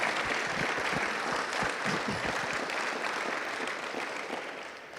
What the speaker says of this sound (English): I think we need to give Francois a little round of applause.